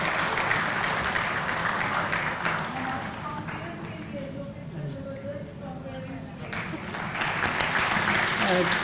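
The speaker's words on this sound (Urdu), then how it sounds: "اور سروسز ڈویژن کے لیے تالیاں" Sustained audience applause at a Seerat Un Nabi ceremony, loud dense clapping that thins a little midway before swelling again, with faint voices underneath.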